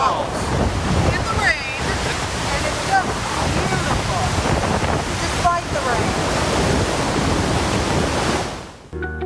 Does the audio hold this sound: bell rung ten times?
no